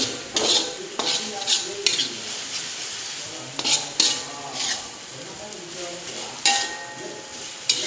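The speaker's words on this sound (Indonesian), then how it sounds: "Oke, setelah sudah kita aduk kembali." Instant fried noodles being stirred with oil, sauce and soy seasoning in a pan, with repeated scraping and clacking of utensils against the pan over a soft sizzle, close and fairly loud.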